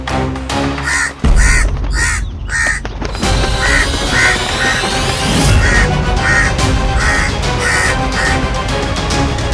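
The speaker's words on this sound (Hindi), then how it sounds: "कौवा" Repeated harsh crow caws, a steady series of rhythmic calls layered over loud dramatic music and sound effects, with a brief silence near the start.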